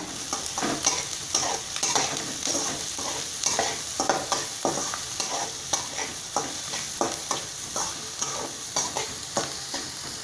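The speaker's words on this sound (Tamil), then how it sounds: "வெங்காயம் வந்து சீக்கிரம் வேகணும்னா நம்ம கொஞ்சம் சிறிதளவு உப்பு வந்து சேர்த்திட்டோம்னா வெங்காயம் சீக்கிரம் வெந்துடும். நல்லா வணக்கிக்கோங்க" Onions with a little salt sautéing in a pan, stirred with a spatula in repeated scraping strokes over a continuous sizzle, close and fairly loud with no talking.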